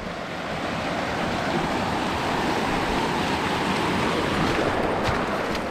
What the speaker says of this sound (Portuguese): olha que espetáculo essa cachoeira